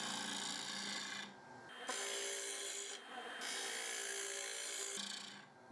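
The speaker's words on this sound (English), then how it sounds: "Right, hollowing this out now." Gouge cutting into a spinning wooden octagon winged bowl on a lathe, loud raspy tearing bursts close up, interrupted by brief pauses as the tool lifts off and re-engages.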